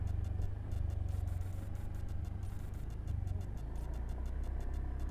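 A 2024 Honda Beat scooter engine drones steadily at a low pitch while being ridden, loud and close, with a rapid ticking texture running throughout and no talking.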